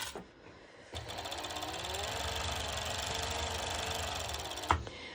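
A sewing machine stitches elastic onto lycra fabric for a one-shoulder top. Its steady, even whir runs for about four seconds at moderate volume and ends with a short clunk, with no voices.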